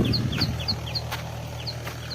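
Birds call repeatedly in short, high chirps at a steady pace, moderately distant in a forest, over a low steady hum.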